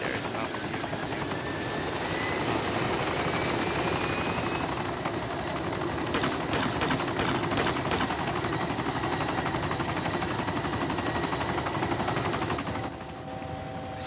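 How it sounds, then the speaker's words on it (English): A helicopter in the video game DayZ, set on the Lingor map, drones with a loud steady rotor thrum and engine whine throughout, easing slightly near the end. "I just fucking scooped their fucking chopper."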